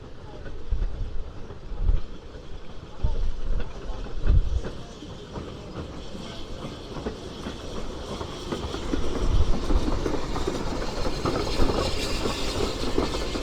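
Ffestiniog Railway steam train arriving at Porthmadog, a steady rumbling roll with rail clatter and hiss building gradually over the whole stretch, moderately distant and continuous.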